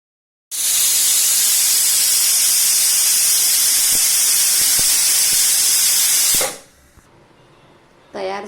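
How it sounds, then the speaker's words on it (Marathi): A pressure cooker on the stove with spiced potato and pea rice inside lets out a loud, sustained steam whistle for about six seconds, then cuts off, leaving quiet and a short burst of hiss. "आणि कुकरच्या 2 शिट्ट्या करायच्या आहेत."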